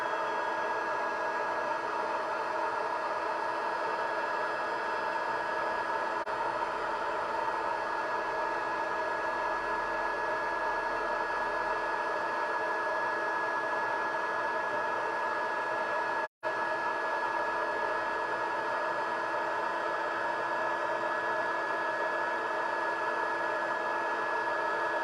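An embossing heat tool blows hot air in a continuous, even whirring hiss with a steady tonal hum, close and loud throughout, with only a brief dropout partway through and no talk.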